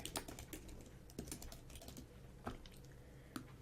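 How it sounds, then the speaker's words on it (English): Typing on a computer keyboard while entering details for a business card design, heard as irregular close key clicks and taps in a quiet room with no talk. "I'm going to type my website."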